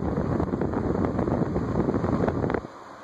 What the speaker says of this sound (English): High is a lot of breeze and a lot of wind noise.